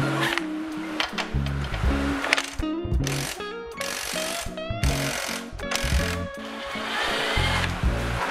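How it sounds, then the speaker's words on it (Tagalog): Impact wrench loosening tight rear set bolts on a CFMOTO 450SR motorcycle, loud repeated hammering bursts with short pauses between, close up and alone. "Tas impact wrench gamit natin kasi medyo mahirap tanggalin yun eh."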